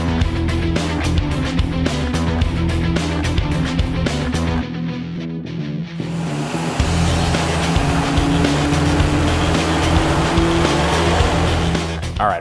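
A nitrous-equipped V8 engine runs on a chassis dyno in a loud, sustained roar, its pitch climbing and holding at high revs with a brief dip partway through, close and with no talking.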